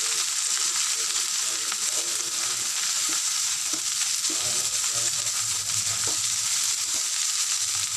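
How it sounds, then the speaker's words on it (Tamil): Chopped orange peel frying in a pan for orange-skin pickle gives a constant, dense sizzle, with soft scraping from stirring throughout and no talking. "ஆரஞ்சு தோலை கொட்டிடுவோம் நல்லா நல்லா கிளறிடுவோம்"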